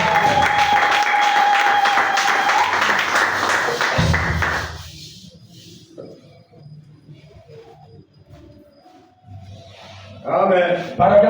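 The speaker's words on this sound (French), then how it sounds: "Acclamez d'abord le Seigneur." A church congregation in Brazzaville applauds the Lord, dense loud clapping and cheering filling the room for several seconds before cutting off abruptly, leaving quieter murmurs and a voice speaking near the end.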